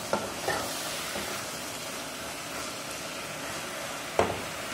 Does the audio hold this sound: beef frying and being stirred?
yes